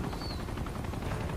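A helicopter in the Uncharted video game throbs with a dense, continuous rotor chop, loud and steady, with rapid gunfire-like bursts mixed in.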